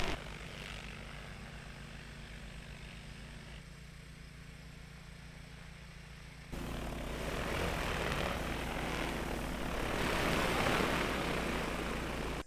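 Agricultural spray drone flying under manual control, dispensing chemical along a tar road at the edge of a crop field; a steady propeller drone over ambient noise, becoming noticeably louder and broader around midway as it comes closer.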